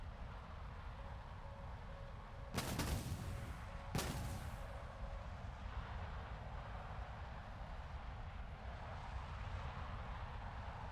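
Bombs dropped from a Tornado IDS jet in the video game War Thunder, two sharp heavy blasts a second or so apart over a steady engine drone, followed by a fading rumble.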